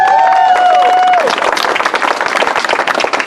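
A room of people applauds loudly and steadily, dense clapping that continues throughout, with a voice briefly trailing off at the very start.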